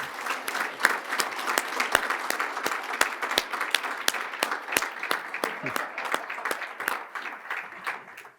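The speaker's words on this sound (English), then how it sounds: "So let's give them a round of applause for everything they do." A legislative forum audience applauds in a sustained, dense burst of many hands clapping. It stays even and moderately loud for about eight seconds before thinning slightly at the end.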